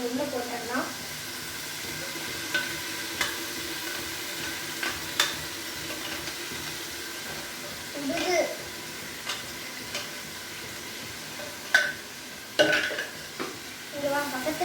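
Ginger garlic mint paste sizzling steadily in a hot pan as it is stirred for chicken biryani, with scattered scraping clicks of the spoon against the pan and a few voices talking nearby.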